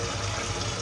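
Water gushes steadily from a newly installed Kohler Koi kitchen faucet being flushed, a brief, loud, even rush of running water with no voices.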